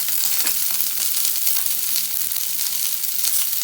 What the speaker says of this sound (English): And then the onion. You don't have to fry golden, just a slight golden color will be sufficient.